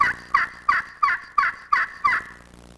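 Friction turkey call played with a magic wand striker to imitate a hen, seven evenly spaced raspy yelps, close and clear, ending in silence.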